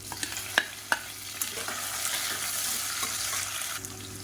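Long-sliced onions and whole green chillies frying in a pan, a steady broad sizzle with a few sharp spoon knocks early on as the mix is stirred, no talking.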